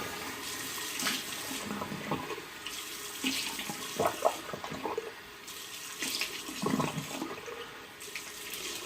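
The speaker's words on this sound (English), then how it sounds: "Some hot water." Hot water running from a bathroom tap into a sink while a man wets his face before a shave, a steady splashing flow with brief louder gushes, close and fairly quiet.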